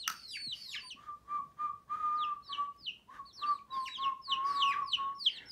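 Baby chickens in a bed cheep in quick, high, falling chirps, close and fairly loud, with a sustained whistle-like tone running beneath them through most of the moment.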